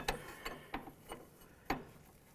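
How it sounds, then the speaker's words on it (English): A 24mm wrench working the jam nut on the outer tie rod of a 2002-2006 Honda CR-V, giving five sharp metallic clicks at an uneven ratchet-like rhythm, close and fairly quiet. "We're going to break this free using a 24mm wrench"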